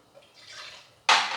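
Water is poured into sifted gram flour for gathiya dough, a faint trickle at first, then a sudden louder gushing splash near the end.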